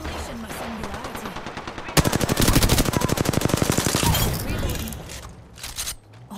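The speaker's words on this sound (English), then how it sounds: "Listen up, I'm getting shot at" Rapid automatic gunfire in Apex Legends, a dense burst of close, loud shots rattling for a few seconds, with game voice lines and effects around it.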